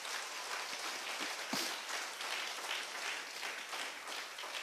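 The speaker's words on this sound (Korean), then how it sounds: "우리 박수로 하나님 감사드리겠습니다." A church congregation at a Sunday worship service claps together in thanks, a soft, dense and continuous wash of applause heard at some distance with no speech on top.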